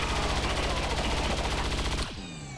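Rapid automatic gunfire in XCOM 2, a loud continuous burst of closely spaced shots lasting about two seconds, then cutting off into a fading ring.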